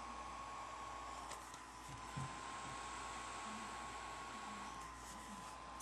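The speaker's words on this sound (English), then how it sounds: "one of its main features is this massive fan" Cooling fan of an Inkia MID500 tablet runs as a steady, close airy whir that holds without a break, with a faint tonal whine riding through it.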